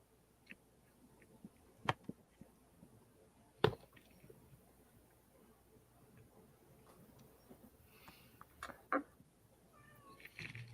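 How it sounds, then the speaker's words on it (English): A house cat in a living room gives a few faint, scattered meows, quiet and spread apart, among light background noises and small clicks. "I have a cat meowing at me."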